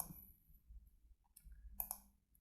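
Computer keyboard keys are pressed during 3D modelling in Blender 3.4, giving a few sharp isolated clicks close by with a quick double click near the end, in a quiet room and with no talk.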